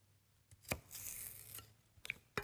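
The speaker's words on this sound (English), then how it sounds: "Just chopping up some celery, and I can't seem to get my cuts going this morning." A knife chops celery on a cutting board, giving a few sharp, separate cracks spaced irregularly with a soft rustle between them, close and fairly quiet, with no talking.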